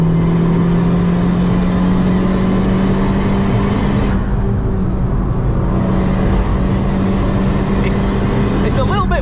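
A Honda Civic Type-R FK2 pushed hard around the Nürburgring, its engine a loud, continuous droning roar with a steady tonal hum, heard close from inside the cabin throughout.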